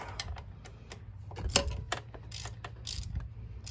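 A wrench ratchets in short bursts while bolts on a scooter are tightened one after another in a cross pattern, brisk metallic clicks repeating close by in a quiet workshop.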